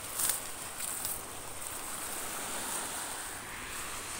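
Soft, steady wash of waves on a beach shore, faint and continuous, with light wind noise.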